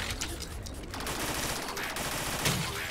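Enemies in the Jumbotron solo mode of a video game fire steadily, a dense, continuous crackle of automatic gunfire filling the whole stretch at moderate loudness, with a sharper burst near the end and no talking.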